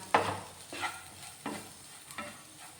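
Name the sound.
stir-frying garam masala and spice powders in a pan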